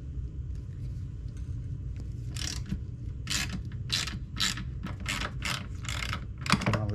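A ratchet works loose a footboard mount bolt on a Harley-Davidson Road Glide motorcycle, giving a series of quick clicking ratchet strokes in short bursts, close up over a low steady background hum.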